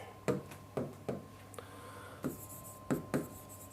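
Marker or chalk writing on a board during a lecture, a series of short scratchy strokes and taps in an irregular rhythm, close and fairly quiet with no talking.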